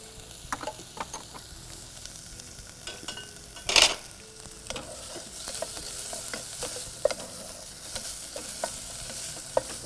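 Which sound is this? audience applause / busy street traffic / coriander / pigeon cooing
coriander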